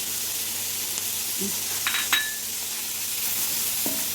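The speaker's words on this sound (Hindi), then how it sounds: "इसको हम 1 मिनट के लिए इन सब स्पाइसेस को इसके अंदर कुक करेंगे।" Salt, paprika, chili flakes and other ground spices fry in a pan for a chicken and vegetable pasta sauce, giving a steady loud sizzle with a few faint clinks of a utensil against the pan.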